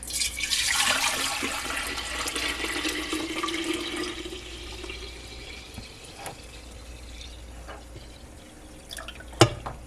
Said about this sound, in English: I am literally going to pour this tea in the jug.